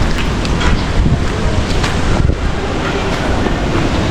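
Typhoon Uwan's winds roar in a loud, continuous, broadband rush, buffeting the microphone with dense gusty rumble from start to finish.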